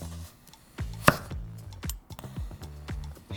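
A single-edged convex-blade Japanese knife slices food on a board in several crisp, close cutting strokes, with one sharp louder chop near the start and quieter strokes after it.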